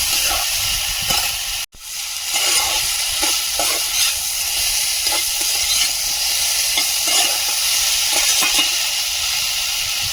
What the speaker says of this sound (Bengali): একটু ভেজে নিয়েছি এবারে জল দিয়ে দেবো